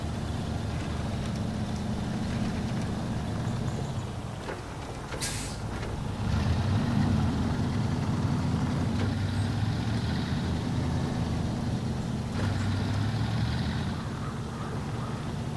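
Heavy truck engine droning steadily in SnowRunner as it drives a materials order route near Smithville Dam, a continuous low rumble with rising and falling revs and a brief hiss partway through.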